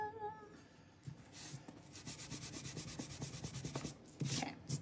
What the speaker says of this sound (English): You can either use your sanding block to sand this off.